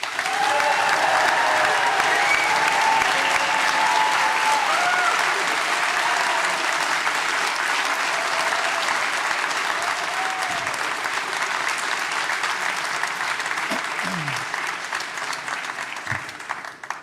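A large crowd of families and friends applauds a group of Loughborough graduates at a 2024 morning graduation ceremony, a sustained and dense clapping that fills the hall and fades slightly toward the end.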